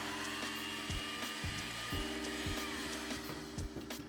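An electric mixer runs on low speed, beating cake batter with an egg for a peach upside-down cake, giving a steady whirring motor hum punctuated by regular rhythmic knocks of the beaters against the bowl.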